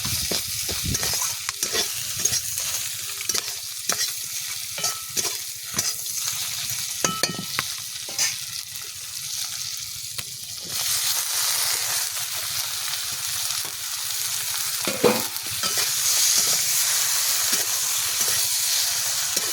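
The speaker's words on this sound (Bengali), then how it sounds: "নেড়ে চেড়ে ভেজে রাখা সবজিগুলোও দিয়ে দিচ্ছি।" Fried vegetables tossed and stirred in a sizzling pan of hot oil in a village kitchen, with a steady loud hiss and frequent close spatula scrapes and knocks, the sizzle rising louder toward the end.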